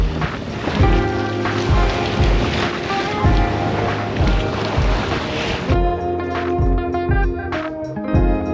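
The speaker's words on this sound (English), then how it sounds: "And this squall also brings more wind, which is of course nice. Now 12 to 14 knots" Squall wind across a sailboat at sea, blowing 12 to 14 knots, a steady loud rush over the boat with sloshing water beneath and a repeating low tonal hum throughout, no voices.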